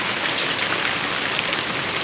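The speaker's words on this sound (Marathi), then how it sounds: "थोडे दिवस पाऊस पण बघा ना मित्रांनो कसा आहे" Heavy unseasonal March rain pours steadily on a goat farm, a dense continuous hiss of falling water with no break and no voices.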